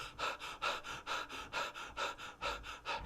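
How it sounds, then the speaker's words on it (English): A roomful of people pant together in a quick, steady rhythm of short, breathy huffs, about three per second, soft and airy at a distance, with no talk. "It's the breath that you take when you are panting."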